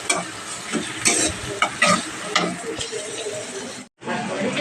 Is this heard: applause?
no